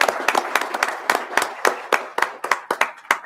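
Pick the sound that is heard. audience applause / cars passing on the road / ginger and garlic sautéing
audience applause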